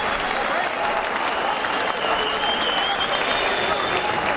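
Boxing arena crowd applauding after Juan Manuel Márquez's bout with Rocky Juarez, a dense, steady roar of clapping and cheering that fills the room for several seconds, with crowd noise and commentary running underneath.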